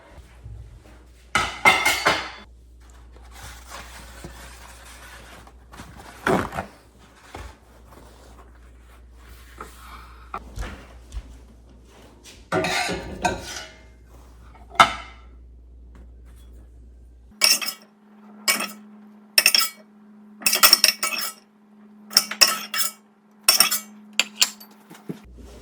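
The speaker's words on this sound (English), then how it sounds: "let's get the sausage out of the pot" Metal utensils clink and scrape against a soup pot as cooked sausage is lifted out, a series of sharp knocks and taps at close range, sparse at first and then quick and regular, with no voice.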